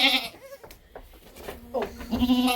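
A young goat kid screams and bleats up close in loud, wavering cries, with a short quieter gap between calls and faint voices in the background.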